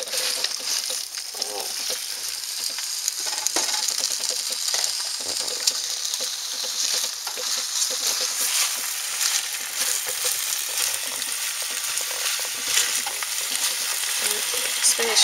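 Spinach is stirred in a pan of hot olive oil, a continuous bright sizzle and hiss with scraping stirs throughout, close up and without speech.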